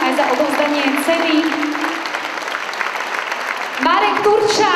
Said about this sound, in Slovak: Ešte raz veľký potlesk.